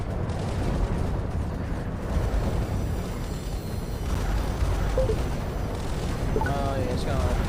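Explosions boom and rumble as a vehicle is destroyed in a combat game, a continuous loud roar of blasts and debris filling the whole stretch, with a voice talking over it.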